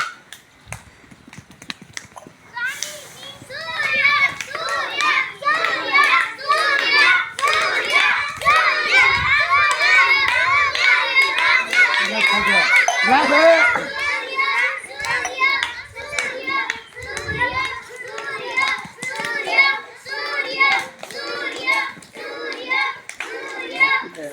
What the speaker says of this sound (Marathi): सूर्य आणि चंद्र गटाला या ठिकाणी मुलं टाळ्या वाजवणार आहेत